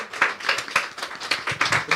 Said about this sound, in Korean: 박수 다시 한번 또.